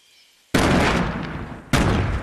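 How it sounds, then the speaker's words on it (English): Two sharp, loud grenade blasts in Fortnite Battle Royale, each striking suddenly and leaving a broad roar that fades slowly, the second arriving a little over a second after the first, with no talk. "As soon as he starts throwing what I assume are grenades there, I just dip"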